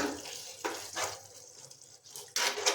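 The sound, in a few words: stirring egg curry masala with a small spoon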